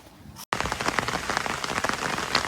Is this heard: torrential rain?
yes